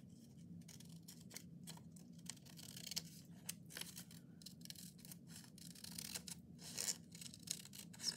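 Paper is trimmed for a handmade craft project, with a quiet series of small crisp snips and rustles close by, irregular and faint, with no talking.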